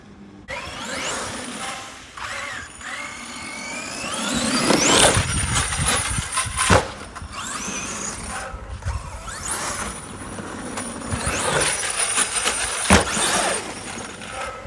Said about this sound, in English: Hear that little blip of throttle?